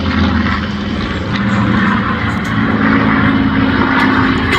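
A Griffin-engined Spitfire of the Battle of Britain Memorial Flight passes at a Midlands air show, its big piston engine giving a loud, steady propeller drone that swells slightly as it goes by, with no talk.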